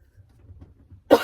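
A single short cough bursts out at the end after a near-silent pause, close and moderately loud.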